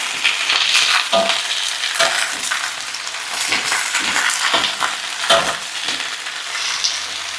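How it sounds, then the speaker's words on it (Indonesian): Salted fish, soaked beforehand and seasoned with a little MSG, sizzling and crackling in a hot pan, with occasional scrapes and stirring knocks over a continuous loud frying hiss. "Di sebelah sini sambil kita goreng ikan asin."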